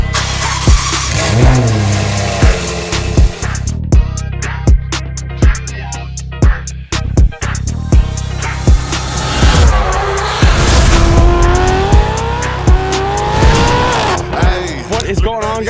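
A 2016 Ferrari 488 GTB with a Liberty Walk body kit revs its engine in several loud, rising bursts and short blips, with voices talking at times over the engine noise.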